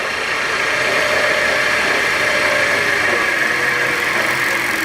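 A wood lathe turns a winged bowl at 1600 RPM, giving a loud, steady motor whine with a constant hum and no change in pitch or volume throughout.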